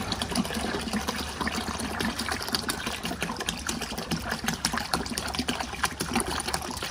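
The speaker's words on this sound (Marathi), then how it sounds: "आता हे ऑलमोस्ट एक लिटर गोमूत्र आहे ते मी पूर्ण मिक्स करते" About a litre of cow urine being stirred and mixed by hand for jeevamrut, a steady wet swishing and trickling of liquid that carries on without pause, close by and fairly quiet, with no talking.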